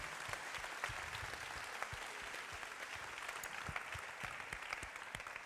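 A room of attendees at a swearing-in ceremony claps steadily, fairly quiet and even with a few sharper individual claps standing out near the front.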